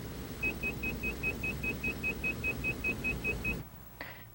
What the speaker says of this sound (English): what you were hearing there was a stall warning system.